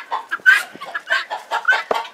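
A hen clucks repeatedly inside a chicken coop, a close, loud run of short agitated clucks and squawks in an uneven rhythm, with no talking.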